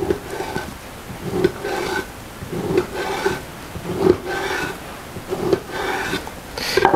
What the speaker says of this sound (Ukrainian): Хліб різати цими ножами, це просто